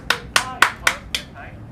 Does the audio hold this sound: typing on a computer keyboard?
no